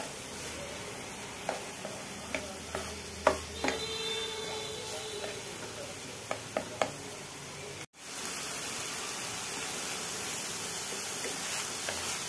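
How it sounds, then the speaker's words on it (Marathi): A taro leaf mixture is stirred and sautéed in a pan, giving a steady soft sizzle with scattered light scraping knocks from the spoon, then a continuous even frying hiss. "ह्या पद्धतीने आपण याला 6 मिनिटं परतून घेतोय"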